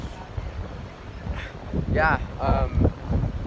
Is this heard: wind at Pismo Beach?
yes